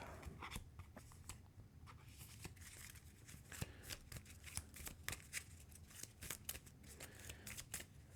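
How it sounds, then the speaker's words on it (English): Board game cards are shuffled into a deck by hand, a run of quick papery riffles and slaps repeating close up and quiet, with no talk. "I shuffle the 2 flood cards into the path deck"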